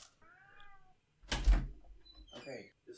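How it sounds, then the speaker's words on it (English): A house cat meows loudly nearby in a few drawn-out, wavering calls, with a louder burst in the middle and brief thumps between them. "I need to go tell my cat to shut up."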